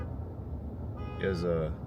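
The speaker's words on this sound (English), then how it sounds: "I don't know why this guy next to me keeps honking." A car horn honks from the vehicle alongside in traffic: a short, moderately loud honk in the final second over steady road rumble, with a voice talking.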